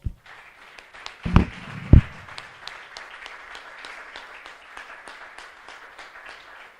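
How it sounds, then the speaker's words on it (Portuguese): Church congregation clapping during a worship service, a sustained patter of many hands that stays moderately loud and even throughout, with a couple of louder thumps near the start. "Reconhece o Senhor em nosso meio com palmas."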